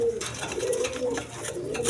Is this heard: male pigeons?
yes